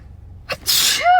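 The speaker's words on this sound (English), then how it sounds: "excuse me, I'm about to sneeze" A single close sneeze: a short sharp intake, then a loud explosive burst with a brief voiced tail.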